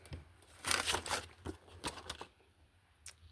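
Cutting open plastic toy packaging for a Miniverse Hello Kitty set, with close, quiet crinkling and rustling of plastic and a few sharp snips in irregular bursts, no speech.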